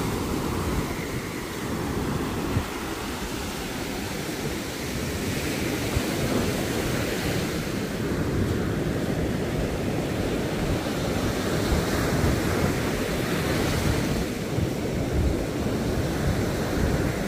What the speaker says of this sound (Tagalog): Lumakay bigla ang alon.